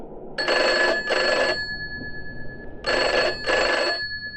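A telephone bell rings in two double bursts, loud and close, with a pause between them and no voices.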